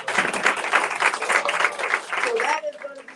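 An audience at a Hamilton County cancer awareness event breaks into a burst of applause, dense clapping that fades out near the end.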